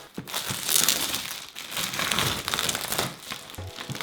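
Protective film being peeled off a curved acrylic side panel of a Thermaltake View 37 PC case, a continuous crackling, crinkling tear that swells and fades over several seconds, close up with no talk.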